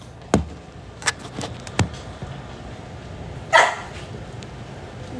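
Dogs let out several sharp barks, spaced irregularly and fairly close, with one last louder bark after a pause and quiet room tone between them.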